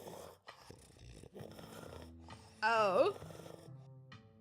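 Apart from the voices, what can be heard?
dog making sounds in the video game Scarlet Hollow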